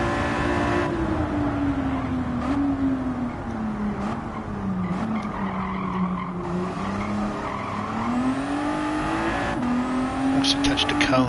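A car is driven hard in a racing video game, its engine droning steadily with rising and falling pitch while tires skid and squeal throughout, loud and close.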